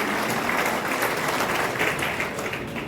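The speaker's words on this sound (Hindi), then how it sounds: "जोरदार तालियों के साथ इन सभी अतिथियों का स्वागत और सम्मान" Loud, sustained applause from a crowd welcomes guests at a swearing-in ceremony for a Sikar lawyers' association's new executive, a dense steady clapping filling the whole moment.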